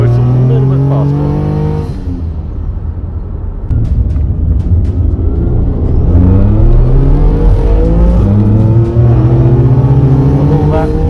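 A twincharged all-wheel-drive Toyota Camry accelerates hard, its engine note climbing in repeated rising sweeps as the turbo and supercharger build boost, loud and close from the car's interior.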